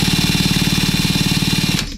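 A power drill with a 13mm socket cranks over a Poulan P3416/P3314 chainsaw engine in a steady, loud rapid chugging rhythm for nearly two seconds before spinning down and stopping.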